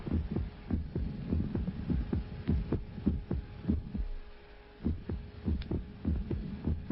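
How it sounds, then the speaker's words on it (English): Heartbeat with an irregular rhythm, regular low thumping pulses now and then dropping a beat, leaving short gaps, under a steady low hum with no talking. "When I climb stairs or do anything strenuous, those missed heartbeats come closer together."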